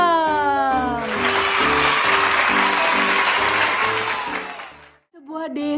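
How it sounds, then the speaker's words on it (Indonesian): Kindergarten children clap their hands together in a burst of lively, dense applause lasting about four seconds, with a voice heard just before and after. "Tepuk tangan dulu dong."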